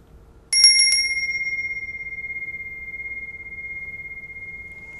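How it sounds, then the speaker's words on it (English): A feng shui bell is struck once, ringing out bright and clear with a sharp, rapidly repeated attack, then a long, pure, sustained tone that slowly fades in a quiet room. "this is a feng shui bell"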